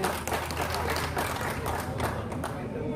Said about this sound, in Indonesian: kalau begitu kasih semangat tepuk tangan.